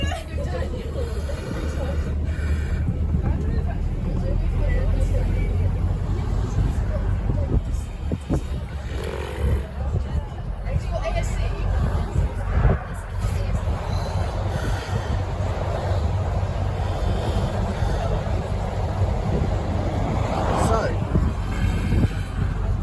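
Cabin of a 2016 Volvo B5TL double-decker with MCV EvoSeti body on the 50X to Swanage: constant low engine drone and road rumble, with rattles and occasional squeaks, under quiet talk.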